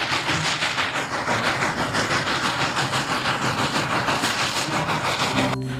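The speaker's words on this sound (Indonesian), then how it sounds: "Ini kereta Thomas." A toy Thomas train running: a continuous close whirring, rattling clatter with a faint rhythmic pulse, stopping abruptly at the end, with no voices.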